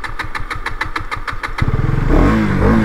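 A KTM Duke 250 single-cylinder motorcycle cranking with a rapid rhythmic starter chug, then catching and firing up into a loud, close rev that holds at a raised pitch.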